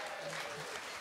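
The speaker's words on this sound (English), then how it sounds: "that's a round of applause" Brief, faint applause from a café audience at an author event, a soft continuous clapping texture lasting about a second, with voices mixed in.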